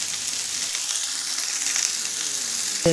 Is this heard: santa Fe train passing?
no